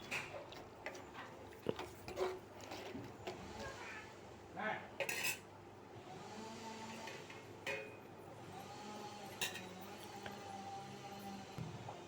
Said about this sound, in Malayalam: കശുവണ്ടിപ്പരിപ്പ് നന്നായിട്ട് ഇളക്കി മിക്സ് ചെയ്തെടുക്കാം